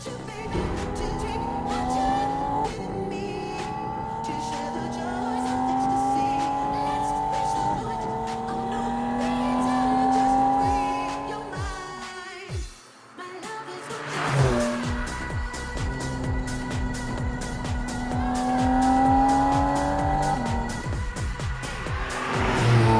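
A powerful Lamborghini Tecnica engine revs and accelerates close by, kept under 4500 rpm, pitch climbing repeatedly through gears, with a brief drop before roaring up again.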